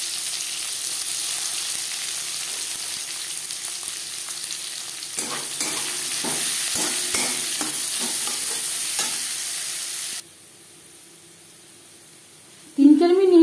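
Chopped onion frying in hot oil in a pan, a steady sizzling hiss with a stretch of spatula scrapes and stirring, then a quieter hiss before a voice begins speaking at the end.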